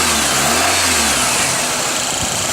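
A car engine, compared to a Jetta, runs loud and close in a steady rough idle, a low throbbing hum with a slight rise in revs partway through and no voices.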